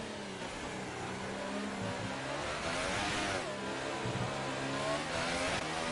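Race car engine in F1 2018 short shifting on the Abu Dhabi Grand Prix circuit, a high whining rev that climbs and drops through quick gear changes, continuous and prominent with other cars audible nearby.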